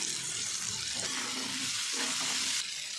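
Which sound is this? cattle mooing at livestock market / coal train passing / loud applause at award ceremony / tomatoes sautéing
tomatoes sautéing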